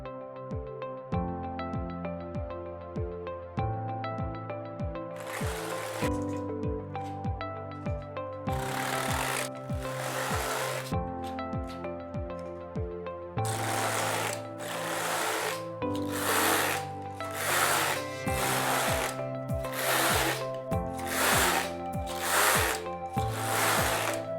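A knitting machine knits socks in a steady run of loud mechanical clatter, repeated carriage passes with rhythmic clacking bursts and brief pauses between rows, close and alone with no talk.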